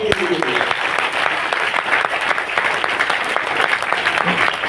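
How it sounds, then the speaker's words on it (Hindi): Audience applause breaking out in a hall during a talk, a dense steady clatter of many hands sustained evenly for the whole stretch, fairly loud, with faint voices mixed in. "एक बार जोरदार तालियां"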